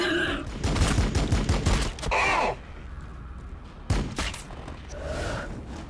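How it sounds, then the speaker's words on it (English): Pistol reaction shots in the Warhammer Battlesector strategy video game, heard as rapid bursts of gunfire with short pauses between them, mixed with game sound effects and grunts. "All the pistol reaction shots."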